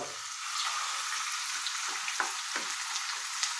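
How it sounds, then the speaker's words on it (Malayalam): Chicken pieces deep-frying in hot oil over a full flame, a steady dense sizzle that starts just after the opening and runs close and loud throughout, with a few sharper pops and crackles. "നമുക്ക് ഫുൾ ഫ്ലെയിം ഇട്ടിട്ടാണ് ചിക്കൻ വറുത്ത് വരുന്നത്"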